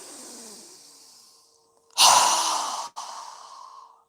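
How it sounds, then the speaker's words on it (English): A strong, forceful exhale through a wide-open mouth during yoga breathing, a loud breathy rush lasting about a second that cuts off briefly and trails into a softer breath, with quieter breathing before it. "Exhale with a strong breath with our mouth open wide."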